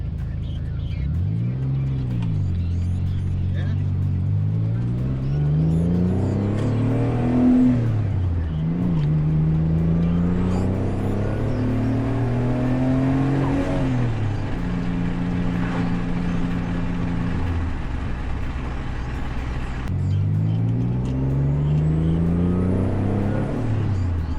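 A Mitsubishi 3000GT fitted with a twin-disc clutch pulls away from a standstill, the engine rising and falling through several loud, close gear pulls with revs climbing and dropping repeatedly, steady throughout.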